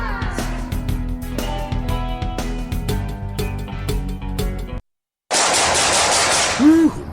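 Sound-effect gunfire in a radio ad, a long burst of automatic fire rattling over music, then a short silence and a loud crackling blast of gunfire noise that rises to the end.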